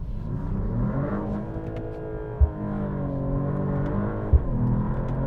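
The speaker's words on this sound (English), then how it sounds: "if you don't shift up in manual mode, it bogs down and all of the acceleration is lost" A 2025 Mercedes-AMG E53 engine pulls in manual mode, a steady low drone that holds without an upshift, with two brief thumps partway through and no talking over it.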